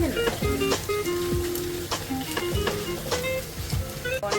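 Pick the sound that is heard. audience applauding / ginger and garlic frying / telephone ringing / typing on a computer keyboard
ginger and garlic frying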